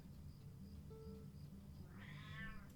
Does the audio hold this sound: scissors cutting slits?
no